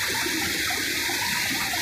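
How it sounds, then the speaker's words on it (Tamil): Kozhikarai waterfall on a Western Ghats river in the Nilgiris near Kotagiri, running in flood, pours out a steady, dense roar of rushing water. No voices are heard. "கோழிகரை வாட்டர் ஃபால்ஸ்."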